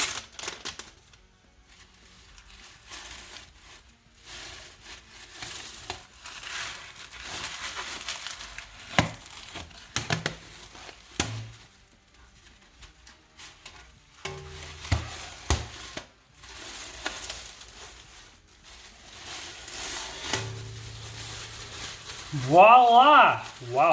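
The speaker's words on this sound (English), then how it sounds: "what we're about to do is peel back the plastic and see how it looks" Protective plastic is peeled back from a car after the brake calipers are painted, giving irregular crackling and crinkling rustles in uneven bursts over a long stretch, with a faint voice near the end.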